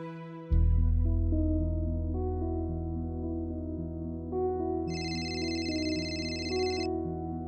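A phone ring with steady melodic ringtone tones sounds repeatedly at moderate loudness over a sustained musical bed, while a woman in a Marathi TV serial calls a relative, and no one speaks.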